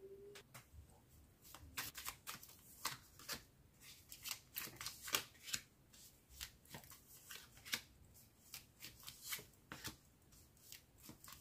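Tarot cards handled and shuffled at close range, a quiet series of crisp riffles, snaps and slaps in uneven bursts.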